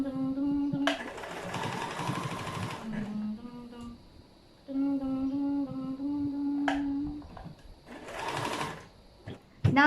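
A sewing machine hems the raw edges of a thrifted milkmaid top. It runs in long whirring stretches whose motor pitch rises and falls, broken by short pauses and light clicks, loud and close.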